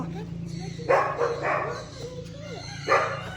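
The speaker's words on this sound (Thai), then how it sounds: "นี่ตรงนั้นไงให้มันเห่าแล้วไง เห็นไหมสุนัขจิ้งจอก" A fox gives a few sharp barks at a distance, spaced irregularly, while people talk over a steady low background hum.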